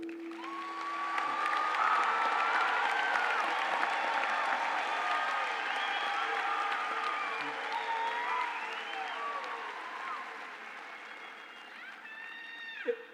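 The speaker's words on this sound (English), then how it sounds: "Let's start our program by giving our graduates a round of applause." Sustained audience applause with cheering at a spring engineering college commencement ceremony, a large crowd clapping steadily for about ten seconds before tapering off, with scattered whoops and crowd voices mixed in.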